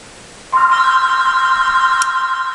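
A telephone begins ringing about half a second in, a loud, steady electronic trill that holds to the end, heard alone without talk, during an eye makeup session at home.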